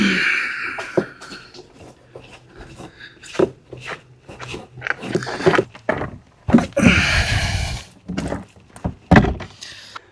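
Wooden barn doors are fitted temporarily into their frame, giving a series of irregular knocks, thumps and scraping shuffles with quiet gaps between them, close and moderately loud.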